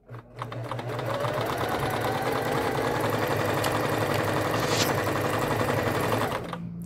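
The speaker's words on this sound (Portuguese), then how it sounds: "Agora é só acionar o pedal controlador do motor." A Singer M2605 mechanical sewing machine's motor runs steadily while stitching fabric, with a loud, continuous rapid chatter close by that starts after a brief spin-up and holds for about six seconds before easing off.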